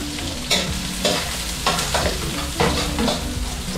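Garlic fries in a pan, a constant crackling sizzle broken by several sharp stirring scrapes at a regular pace, close and fairly loud.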